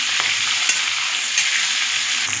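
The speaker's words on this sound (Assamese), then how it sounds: "অকণমান হাত ফ্ৰাই কৰি ল'ম।" Fish fries in hot oil, a loud, steady, close sizzle and crackle with a few light pops and no voices.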